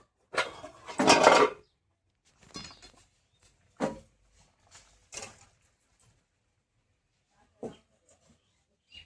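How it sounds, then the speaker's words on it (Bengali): A metal wok set onto a stove with pot clatter, one loud clanking scrape up close followed by several sparser knocks and taps spread out over the following seconds, with quiet gaps between. "কড়াইটা বসিয়ে দিলাম"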